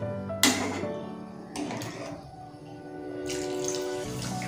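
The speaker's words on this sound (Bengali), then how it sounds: "এবার এর মধ্যে আমি পরিমাণ মতো জল দিয়ে দেবো।" Water is poured into a cooking pot of rice for a soya chunk and Gobindobhog rice dish, a steady splashing stream with a sharp start and a second burst midway, close and fairly loud.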